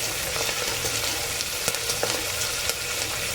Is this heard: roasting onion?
yes